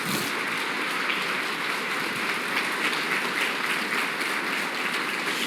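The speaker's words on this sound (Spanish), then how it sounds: "Dale un fuerte aplauso al Señor." A church congregation in Mexico City applauds the Lord during a worship service. The clapping is dense, continuous and moderately loud, with a roomy, reverberant wash.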